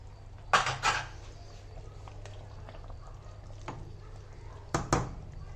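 Chicken manchurian ingredients being mixed, with a few sharp clinks of a spoon against a bowl or pan at the start and near the end over a quiet background.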